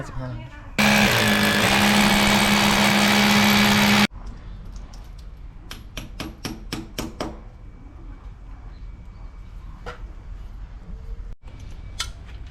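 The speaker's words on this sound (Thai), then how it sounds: "นี่เรากำลังจะเจาะ ที่ยึดขา แขวนแอร์ใหม่นะครับ" A power drill bores mounting holes into a wall for a Samsung air conditioner hanging bracket, giving one loud, steady whir of about three seconds, followed by scattered clicks and handling taps.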